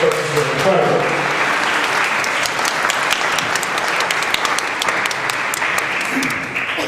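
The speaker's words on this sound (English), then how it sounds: "I'd like you to give yourselves a round of applause." An audience at a 2014 sheriff candidates forum applauds: dense, sustained clapping from a room full of people, loud and even throughout with a faint voice at the start.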